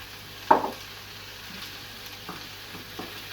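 Ingredients for dragonbreath chilli frying in a pan, a soft steady sizzle with a sharp clatter near the start and a few light stirring scrapes, no talking.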